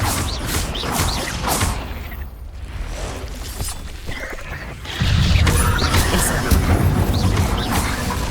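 A fire spell in the Hogwarts Legacy video game, a swelling magical whoosh followed by crashing, rumbling blasts and debris, loud and dense with a heavier burst partway through.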